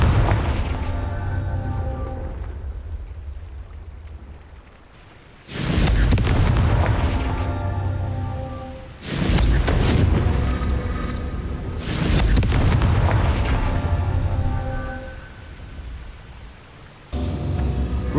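Confringo fire spell blasts in the video game Hogwarts Legacy: several loud, heavy booms, each bursting suddenly and then rumbling away, with a quieter rumbling bed between them.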